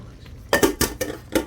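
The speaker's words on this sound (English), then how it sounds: "I'm throwing in my mushrooms" Mushrooms tossed into a metal pot of kale and potatoes, giving several sharp clanking and clattering hits in quick, uneven succession, close and fairly loud.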